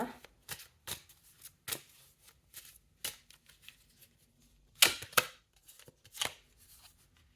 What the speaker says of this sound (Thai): เราขอเปิดไพ่อีกสำรับหนึ่งเนาะ